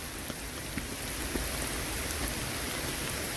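Pouring rain falls on a hiking trail at Seneca Rocks, West Virginia, a dense, steady hiss of drops striking wet ground and foliage close by, unbroken and fairly loud, with no voices.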